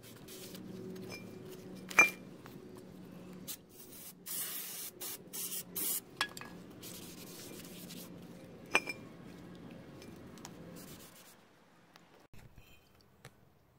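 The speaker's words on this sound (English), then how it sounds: "You want to clean off the rotor with brake cleaner so you remove the coating that prevents the rotor from rusting." Brake cleaner hisses from an aerosol can in several short, sharp bursts onto a front brake rotor of a 1994-2000 Honda Civic, close by, with occasional metallic clinks between sprays.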